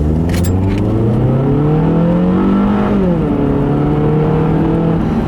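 A 2013 Scion tC engine revs up steadily under acceleration with an automatic transmission, pitch climbing, dropping briefly at a gear shift, then rising again; loud, close and continuous.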